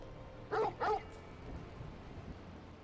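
A dog in the video game Final Fantasy XVI gives two quick, close barks in succession, followed by faint low background sounds.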